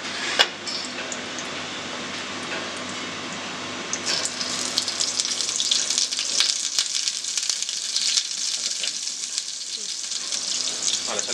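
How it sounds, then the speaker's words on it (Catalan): Sweetbreads seared in browned butter in a frying pan in a restaurant kitchen, with a loud, bright sizzle that starts suddenly partway through and then crackles on steadily near the mic. "Per començar posarem la mantega negra a la paella"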